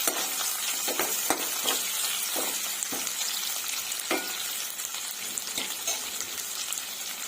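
Chopped onions fry in a pan for ghee bagara rice, giving a steady, close sizzle with a few sharp clinks and scrapes of stirring scattered throughout.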